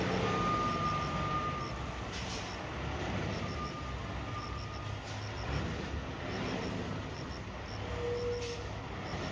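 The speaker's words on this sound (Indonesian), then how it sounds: "Truknya milih mundur terus sampai ke bawah tanjakan." A truck reverses down a slope on a road, its repeating reversing beeps sounding steadily over a low engine rumble and road noise, with faint air-brake hisses.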